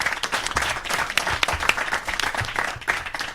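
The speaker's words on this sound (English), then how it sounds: "And a round of applause for Andy." Audience applause at a student union leadership debate on welfare and community, steady dense clapping from a room of people that fills the whole stretch without talk.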